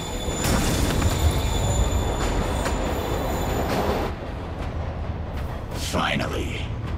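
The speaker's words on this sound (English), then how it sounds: "Train moving." A moving train in the Marvel's Spider-Man video game rumbles steadily with rail noise and faint wheel squeal, loud and continuous throughout, with game speech mixed in over it.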